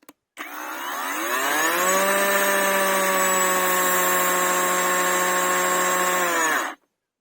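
Parkside Performance 40V cordless chainsaw, PPKSA 40-LI A1, spinning up from a short blip into a loud, steady high-pitched electric whine that holds for several seconds at high revs, then cuts off abruptly.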